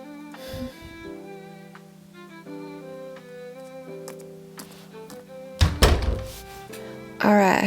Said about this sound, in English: Then you come out and lock the door behind you